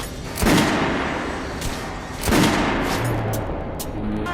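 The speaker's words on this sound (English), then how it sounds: "Head over to my range and try out those guns" Guns fired at a shooting range in the video game Metro Last Light: two loud, booming gunshots about two seconds apart, each with a long reverberant tail, over a steady background rumble.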